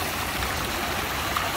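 Water pours steadily from a fountain monument in a city square in Milan, a constant close rushing wash with no voices.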